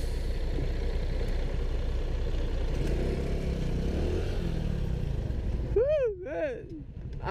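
A motorcycle engine runs with a steady, close rumble and then eases off slightly, and a voice speaks over it near the end.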